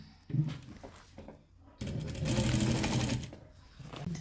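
A sewing machine stitches pencil pleat curtain tape, opening with a short burst and then running in a longer steady stretch of about a second and a half, close and moderately loud, with no speech.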